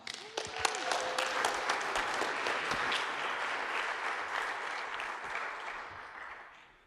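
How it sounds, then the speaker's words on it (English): Audience at a startup pitch event in Kansas City applauds a presenter with sharp individual claps at first, swelling into a full, dense round of clapping before tapering off. "Please give him a warm round of applause."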